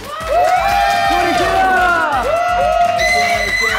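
A group of young people cheers, whoops and claps in a bright, lively burst that carries on for several seconds, with excited shouting voices layered over the applause.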